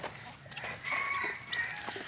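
Backyard chickens clucking up close on a farm that also keeps peafowl and ducks, with a short run of busy, overlapping clucks and squawks over faint background noise.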